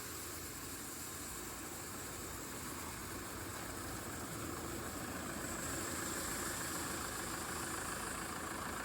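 A tractor engine drives a paddy threshing machine in a continuous, faint, even drone that stays steady throughout and ends with a brief click.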